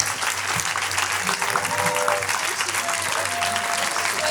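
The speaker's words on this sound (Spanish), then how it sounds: "Fuerte el aplauso para Elisa Loncón." Steady audience applause at the third Feria del Libro de Flores book fair in Buenos Aires, a dense, sustained crowd clapping that fills the whole stretch with faint voices underneath.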